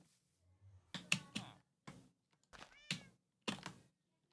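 A calico cat in Minecraft meows in a series of short separate calls mixed with soft thunks and clicks, close and intermittent with quiet gaps.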